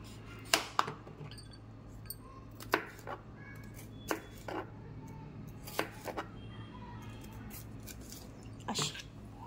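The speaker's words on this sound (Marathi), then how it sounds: "असे कट करून घ्यायचेत. आपल्याला उभे काप करून घ्यायचेत." A knife cuts a vegetable into long lengthwise slices, giving about a dozen sharp, irregular chopping knocks against a board over a steady low background hum.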